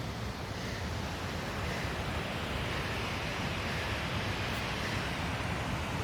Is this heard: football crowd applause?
no